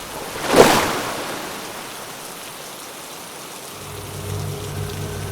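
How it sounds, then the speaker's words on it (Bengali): A storm effect for a horror tale opens with a sharp burst like a gust or thunder crack, then settles into a steady hiss of rain with a low rumble near the end. "হঠাৎ ঝড় উঠল, সাথে বৃষ্টিও নামল"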